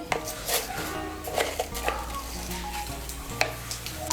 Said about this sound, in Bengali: আর দিয়ে দিচ্ছি 1/2 ছোট চামচ গোটা জিরে।